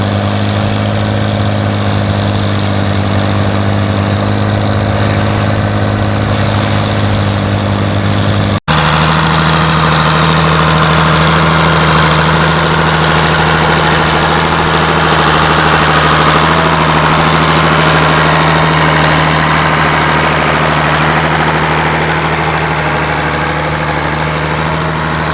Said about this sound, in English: Tractor has a unique sound.